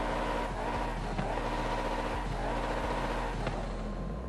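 An Ascari KZ1R supercar engine in Forza Horizon 5, tuned with race fuel system and race exhaust, drones steadily at high revs with brief dips and rises as it shifts, loud and continuous.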